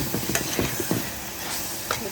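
Tomatoes go into a pan of fried spices for a fish curry, a dense close sizzle with a quick run of clattering stirs at first, then a steadier hiss and one more scrape near the end, no voices.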